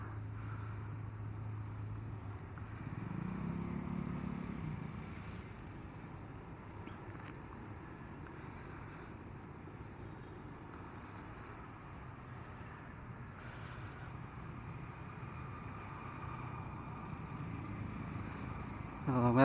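Monday morning rush-hour road traffic on the EDSA Kamuning flyover, heard as a steady low rumble of passing vehicles with a brief louder engine swell early on, fairly faint and continuous throughout.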